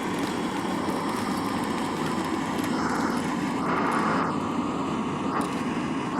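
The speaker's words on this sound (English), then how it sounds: "you can use the airdrop noise to cover your tracks" Airdrop plane droning overhead in Escape From Tarkov, a steady broad aircraft engine roar that holds at a fairly even level throughout, with no talking.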